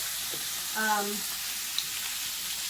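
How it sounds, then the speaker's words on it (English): Pork chops frying in a pan give a steady, even sizzle that hisses throughout, with a brief tonal sound near the start and one small tick partway through. "the pork chops have fried up nicely on both sides"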